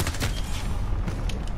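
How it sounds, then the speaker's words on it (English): A burst of sustained LMG machine-gun fire in the video game Call of Duty: Modern Warfare, rapid and dense with cracking shots for under two seconds and no talk over it. "Yo, Jose, have you seen the power of the new LMG?"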